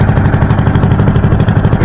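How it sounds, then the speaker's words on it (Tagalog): A small engine runs loud and close, its exhaust rigged to blow air into an outdoor cooking fire, giving a steady rapid chugging rumble with no pauses. "Pinapandar lang yung makina mga kabida"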